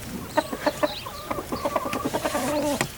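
Hens cluck and call in a hen house shared with roosters and a chick, a series of short close clucks and squawks that ends in a drawn-out cackle, with no talk.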